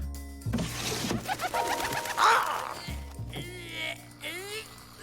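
A bird-call whistle blown softly to talk with birds, answered by cooing pigeons; short whistled trills and warbling coos come and go over a cartoon soundtrack with low music.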